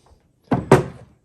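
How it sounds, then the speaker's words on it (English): A long drawer of a twin pedestal desk is pulled out, giving two quick wooden thumps and a short rumble, fairly close, with no talking. "Here, I'll pull out this drawer."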